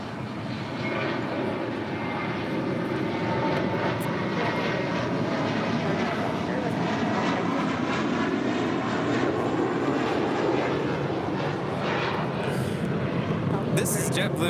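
An Atlas Air Boeing 747-8 bound for Anchorage roars loudly and steadily during its takeoff from runway 25L at LAX, a broad continuous jet engine rumble, with someone talking over it.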